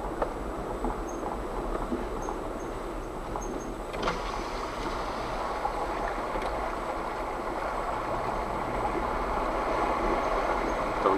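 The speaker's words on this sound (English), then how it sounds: "Fire up the outboard." An outboard motor runs on a boat near an ice road crossing in early spring, a steady low drone with broadband wash that holds evenly throughout, a brief clunk near the start, no talk over it.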